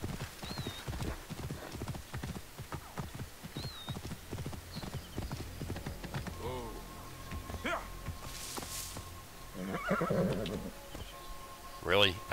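Horse in the Assassin's Creed Origins video game whinnies clearly near the end, with steady clip-clop hoofbeats throughout and someone talking over the first half.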